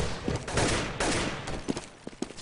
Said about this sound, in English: Beck being forced back by a hail of gunfire.